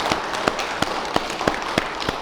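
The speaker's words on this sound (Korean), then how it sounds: "우리 힘차게 큰 박수로 한번 격려해" A church congregation at a Sunday worship service gives a round of applause, with several sharp, evenly spaced claps standing out above a softer background of hands.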